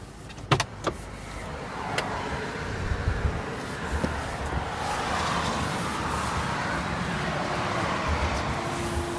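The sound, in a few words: Mercedes G500 auxiliary heater blowing hot air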